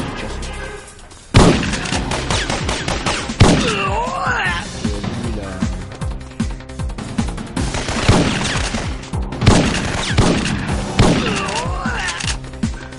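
Pump-action shotgun fire in a video game, several heavy blasts spaced seconds apart over a busy, tonal game soundtrack.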